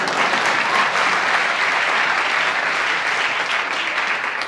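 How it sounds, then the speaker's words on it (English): Studio audience of a late-night talk show applauding loudly and steadily, a dense unbroken wash of clapping that holds for several seconds with no one talking over it. "Sure, go ahead and applaud if you like."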